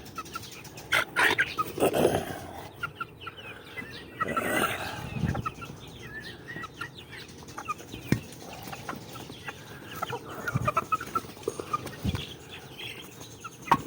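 Young pet chicks at a feeding area, cheeping and clucking in scattered bursts across a quiet outdoor setting, with no one talking.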